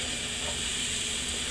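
Chopped broccoli sizzling in a hot cast iron pan, a steady, even, hissing fry that holds constant and fairly quiet throughout, with no voices.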